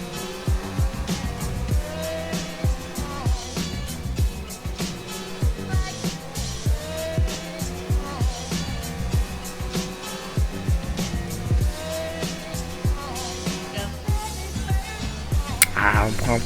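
An F1 race car engine in the F1 2019 game at the Australian Grand Prix screams steadily at high revs, with rhythmic gear-shift dips and near-constant loud drive, while someone comments over it.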